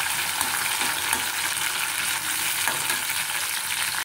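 Chopped tomato and two green chilies fry in hot oil in a pan, giving a close, continuous crackling sizzle with no talking.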